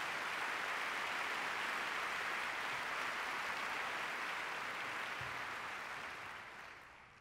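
An audience at the 2005 Goldman Environmental Prize ceremony applauds, a dense, sustained roar of clapping that holds steady and then fades toward the end.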